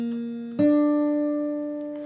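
A fingerstyle guitar picks a counter melody, one sustained note followed by a new plucked note that rings and slowly decays, close and clear with no voices.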